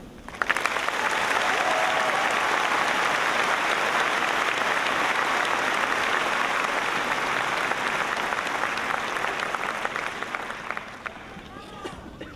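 An audience at the 2012 Beaverton High School graduation ceremony gives a speaker a long, loud, dense round of applause that holds steady and then thins out and fades at the end.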